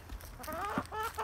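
Chickens cluck and a rooster calls in a farmyard, a run of close, fairly loud clucks with one brief squawk partway through, no talking.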